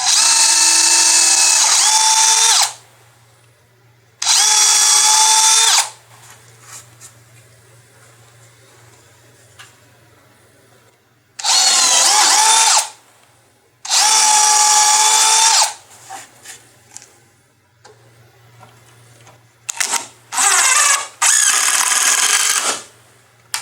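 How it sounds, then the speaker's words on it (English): A power drill drilling pilot holes whines in several separate high-pitched bursts, a few seconds each with quiet gaps between, close by and loud. "Now we're going to drill some pilot holes and connect the rail to the leg"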